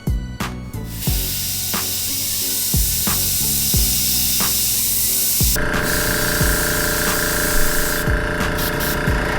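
An airbrush hisses out bursts of paint mist, loud and close, with short sprays at first and then a longer continuous stream, while a lowrider-inspired art piece is being darkened.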